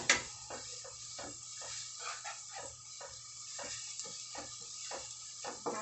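Onion and garlic sautéing in a pan for beef picadillo, a soft steady sizzle broken by repeated light scraping and clinking of a utensil stirring, quiet and close.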